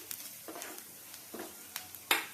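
A spoon stirs a frying onion mixture with turmeric in a pan while cooking ridge gourd curd curry, giving a faint background sizzle with several soft scrapes and a final louder clink against the pan.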